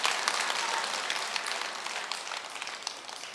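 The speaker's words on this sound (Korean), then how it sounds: "박수 치지 말고 맞으면 나무아미타불 해보세요" An audience at a Buddhist dharma talk at Jogyesa temple breaks into applause, a dense, steady patter of many hands clapping together for a few seconds before gradually thinning out.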